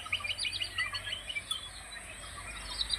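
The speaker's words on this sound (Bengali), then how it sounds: "পাখির আওয়াজ পাচ্ছ নিশ্চয়ই তোমরা।" Small birds chirp and tweet beside a pond at sunset, with faint, scattered high calls over soft outdoor ambience and no one talking.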